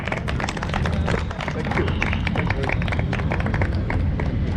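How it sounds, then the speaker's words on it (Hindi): Continuous crisp clapping rises from an audience at a Lucknow University fest as two professors are honoured with mementos, a busy, sustained patter of many hands. "तालियां बजती रहनी चाहिए।"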